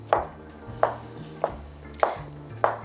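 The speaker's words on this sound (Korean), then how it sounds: "표고버섯은 이렇게 채를 썰어서 잘게 다져주면 되겠지요" Knife chopping shiitake mushrooms on a cutting board, five evenly spaced crisp thuds about half a second apart, close up with no talk.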